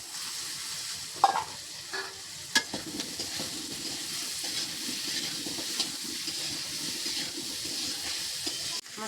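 Pieces of papaya and potato sizzle and fry steadily in hot oil for a Bengali vegetarian dish, with a few sharp clatters of stirring near the start and a continuous crackling hiss throughout.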